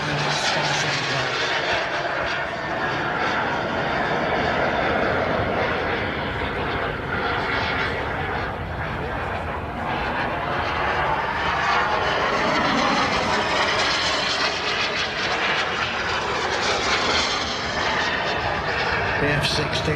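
A 24-kilogram radio-controlled model F-16 jet flies at the LMA Elvington airshow, its turbine roaring continuously and loudly, swelling and shifting in pitch as it passes overhead.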